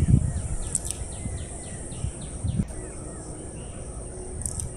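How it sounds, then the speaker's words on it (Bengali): Birds chirping at dawn around a rooftop, a quick series of small chirps mid-distance over a soft hiss of ambient noise, with a couple of brief louder thumps. "পাখিরা কিচিরমিচির করছে"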